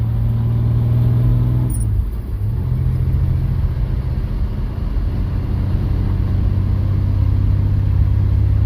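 Steady engine drone of a 1985 Chevy S10 pickup cruising at about 40 mph, a loud continuous rumble from inside the cab with a brief dip in pitch partway through, no talking.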